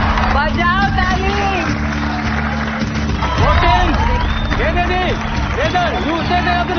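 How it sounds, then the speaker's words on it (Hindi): Crowd clapping and cheering at a women's kabaddi match between India and Iran fills the background as a steady, dense wash, with loud talk and music layered over it throughout. "बजाओ ताली।"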